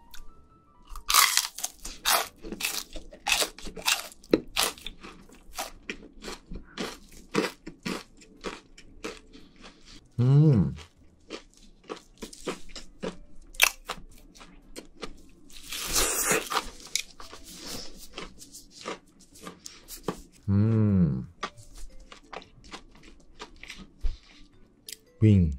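Crunchy chicken tenders eaten close to the mic alongside spicy rice cakes, with sharp crunching bites, wet chewing and squishy sounds in irregular bursts, and a couple of short spoken words in between.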